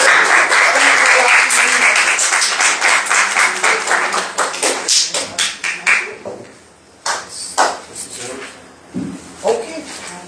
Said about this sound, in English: Clap for Mr. Hilaire.